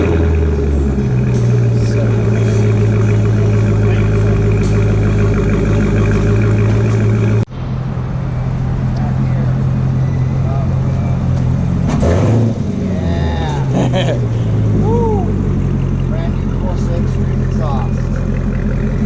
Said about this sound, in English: Start this car.